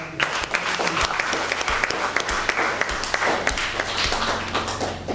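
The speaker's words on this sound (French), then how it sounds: "Nous pouvons encore applaudir pour elle." Audience applause at a Catholic women's gathering in Brazzaville, a dense steady patter of many hands clapping, fairly near and sustained throughout, with a few sharper claps standing out and faint voices underneath.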